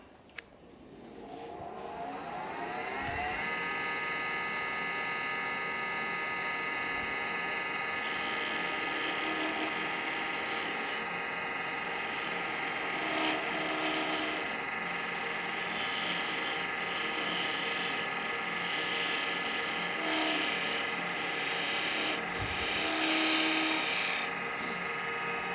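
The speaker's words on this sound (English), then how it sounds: "the first thing I'm going to do is true up this end. I'll do that with my skew" A wood lathe spins up and hums steadily while a skew chisel trues the end of a wooden deer grunt call, a close, sustained whine with a scraping cutting hiss over it and occasional louder bumps.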